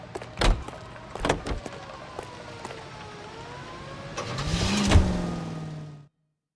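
A car in the 1940s Los Angeles game L.A. Noire: a door thunks twice, then the engine starts and revs, rising to a steady loud drone before cutting off abruptly.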